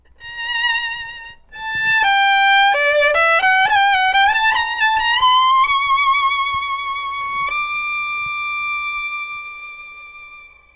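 Solo bowed string instrument playing a short phrase of notes that settles on a long held D, swelling and then gradually dissolving away.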